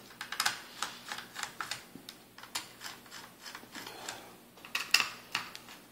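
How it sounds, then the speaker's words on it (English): Small screws on the heatsink of an HP Probook laptop being undone with a screwdriver, a quiet close-up series of rapid clicking ratchet-like ticks in irregular bursts, with no voices. "undo your four screws holding in your heatsink here"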